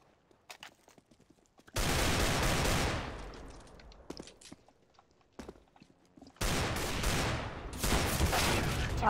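Gunfire in Counter-Strike: Global Offensive, two loud sustained bursts of rapid shots separated by a quieter stretch of scattered footsteps and small clicks, close and dominant.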